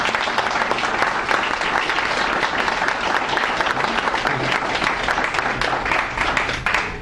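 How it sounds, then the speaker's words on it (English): A conference audience gives a sustained round of applause for a brother and sister, dense steady clapping filling the room at full strength throughout and tapering slightly at the very end. "Let's give the brother and the sister another round of applause"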